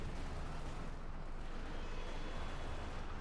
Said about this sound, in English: Another Katyusha barrage here